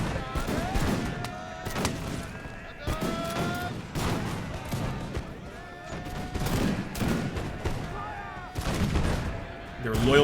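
Line infantry musket volleys in Imperial Glory, a Napoleonic-era battle in the snow, repeated rolling crackles of massed gunfire in irregular bursts, with someone talking over the battle.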